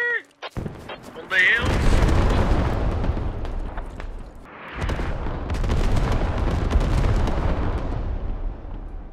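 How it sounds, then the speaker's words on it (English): In the video game Squad, artillery shells explode nearby in heavy, booming blasts, first one sharp hit, then a long rolling barrage with a second wave. A player's voice is heard briefly at the start. "Artillery on us. This isn't good. Artillery!"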